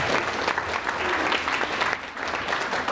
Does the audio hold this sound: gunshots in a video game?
no